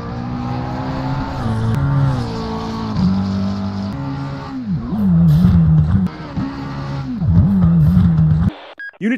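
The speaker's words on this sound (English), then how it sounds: "High-speed pursuit of a white Miata heading southbound on Route 294." White Mazda Miata race car accelerating past. The engine is loud and close, rising in pitch through repeated gear shifts and revving hard, then cuts off abruptly at the end.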